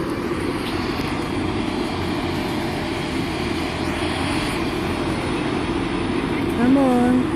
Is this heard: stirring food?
no